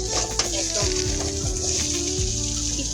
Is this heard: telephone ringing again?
no